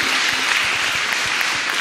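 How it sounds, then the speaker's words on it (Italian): Audience applause at a cinema event, a brief, steady wash of clapping from a crowd in a hall, moderately loud and unbroken. "facciamo un applauso a Claudio"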